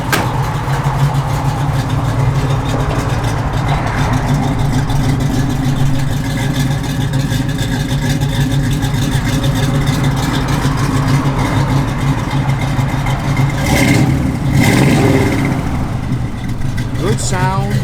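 A 1965 Chevrolet Malibu engine runs steadily and loudly at idle with a low, even rumble and a slight rise in revs near the end, while someone talks over it.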